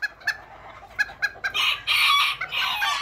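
Miniature roosters at a breeding farm on a ranch give a run of short clucks, then a louder drawn-out crow, close and clear with no talking.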